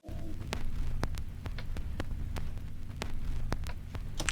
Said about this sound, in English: make it sound like it's coming from an analog source, of, in this case, a vinyl record player